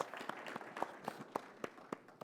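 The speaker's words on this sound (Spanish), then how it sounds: "Así que un aplauso para ellos" Church congregation applauding for children after a Bible competition, scattered claps in an uneven rhythm, faint and distant in a large room.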